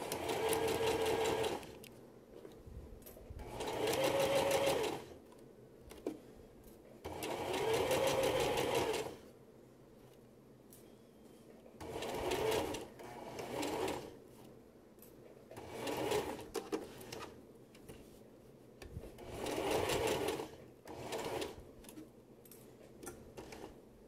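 A sewing machine runs a basting stitch in repeated bursts of steady whirring, each a few seconds long and separated by short pauses, close and fairly loud with no voices.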